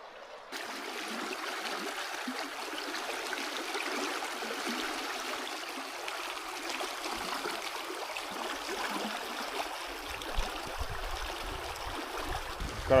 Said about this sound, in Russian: тут спустился в низину, а здесь ручей течет